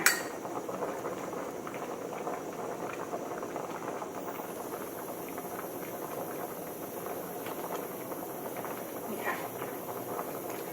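A pot of tilapia curry bubbles and simmers steadily, with occasional light clinks of a spoon against the pot as foam is skimmed off.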